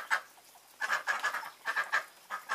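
Ducks outdoors in snow on Christmas, giving short bursts of nasal quacks in clustered groups with brief pauses between, fairly faint and fairly near against a quiet background.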